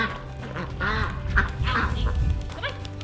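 Several homestead ducks quack nearby in a cluster of nasal calls over a low outdoor rumble, with a faint voice mixed in.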